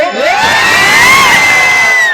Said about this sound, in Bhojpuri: एक बार हाथ उठा के चिल्ला दे